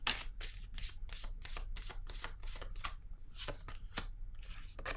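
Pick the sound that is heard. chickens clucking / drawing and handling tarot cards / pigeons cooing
drawing and handling tarot cards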